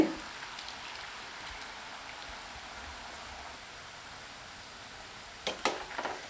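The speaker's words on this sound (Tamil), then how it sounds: "கொஞ்சம் கொஞ்சமாக மாவை மெது பக்கோடா மாதிரி போட்டுக்கலாங்க" Laddu dough dropped bit by bit into hot oil, giving a steady, soft sizzle like light rain, with a few sharper crackles and pops near the end.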